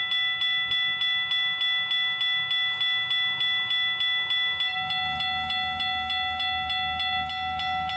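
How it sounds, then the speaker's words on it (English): A train horn sounds in a video game, a steady tonal blast held throughout over a rapid, regular clicking rhythm, with a lower rumble joining partway through. "You can still hear the horn from the crossing."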